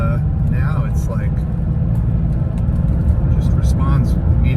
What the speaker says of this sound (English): the engine just sounds a lot happier